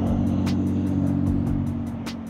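A Chevrolet Corvette hybrid, with an electric motor in front and a gas engine in the rear, pulls away at a car show, its steady low engine rumble close by and slowly fading.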